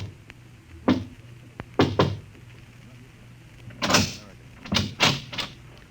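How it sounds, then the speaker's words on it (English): A few soft, quiet knocks on a door in a hushed, deserted street setting, sounding as scattered pairs and clusters of muffled thumps at a moderate distance. "knocks quietly on a door"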